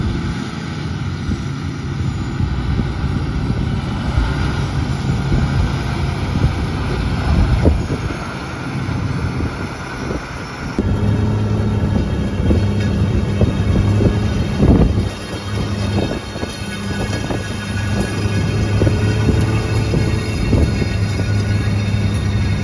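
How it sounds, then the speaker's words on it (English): A John Deere 9RX 830 tractor of about 800 horsepower runs at 1700 RPM and 14 mph while pulling a 40-foot disc through a field, giving a steady, loud engine drone with wind buffeting the microphone throughout. "So this is what you use 800 horsepower for. It's going 14 miles an hour, 1700 RPMs, pulling a 40-foot disc"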